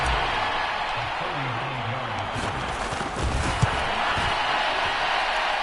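A Saints home crowd in New Orleans roars during a football game against the Falcons, a loud, steady wash of many voices that holds throughout with a brief swell near the end.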